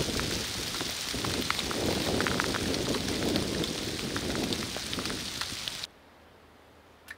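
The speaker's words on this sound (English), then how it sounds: "the rain picked up and they went back to cover." Heavy rain pours steadily outdoors in Kansas with dense hiss and scattered drops, loud and continuous, then cuts to near silence.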